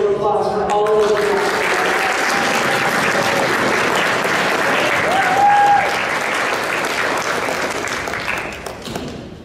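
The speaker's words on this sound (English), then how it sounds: "And another big round of applause for all of those." A crowd at a high school track banquet applauds warmly for award recipients. The clapping is dense and steady, holds for several seconds and then fades, and a voice speaks briefly at the start.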